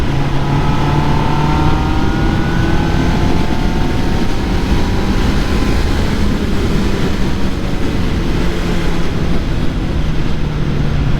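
A QJ Motor SRK 800 four-cylinder roadster motorcycle accelerating hard in sport mode, its engine note rising in pitch through gears over heavy wind rush, loud and continuous with no pauses.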